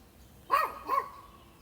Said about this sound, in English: I hope y'all can hear that dog in the distance.